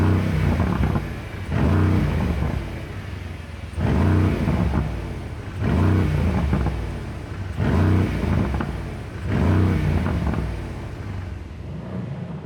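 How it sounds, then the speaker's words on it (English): A new Mercedes-AMG GLC 63 S engine revving repeatedly, deep throaty surges rising and falling in about five long pulses, close and loud with no talking. "I'm going to give you some revs"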